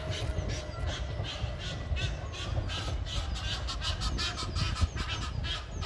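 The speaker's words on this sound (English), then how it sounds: "Oh, the crows are fighting with the Egyptian geese in the cedar tree." Crows and Egyptian geese squabble in a cedar tree in a London park, repeated harsh caws and honking calls over a constant rumble of nearby traffic, moderately distant.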